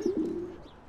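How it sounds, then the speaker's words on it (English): A pigeon coos nearby in a short low warbling burst that fades out, with a faint background hiss and no talking. "The pigeon is laughing at you!"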